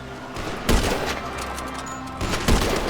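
Police gunfire in the GTA V Online video game, with bursts of shots over a steady background din. Two heavier volleys stand out, one early and one near the end.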